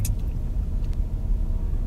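Cars roll through a parking garage at Nagoya's Chubu Centrair International Airport, a low steady engine rumble with faint echoing reverb and a couple of brief higher squeaks.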